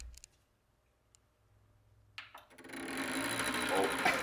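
A newly built PC powering up, with a case fan whirring and rattling against a CPU cable it is touching, a few clicks before a loud, rough buzzing grind sets in.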